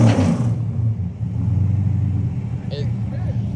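An LS3 V8 in a drift car on a dyno rumbles with a deep, steady low-end roar that holds near and loud throughout, while voices talk over it.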